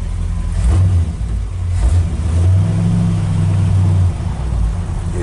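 A 1964 Ford F100 pickup truck engine with a 4-speed rumbles steadily with a deep low drone, briefly rising in pitch as it revs, then settling back.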